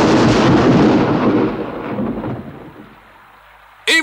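A loud thunder clap rumbles over heavy rain, then fades into a steady, softer downpour; near the end a brief sharp noise breaks in.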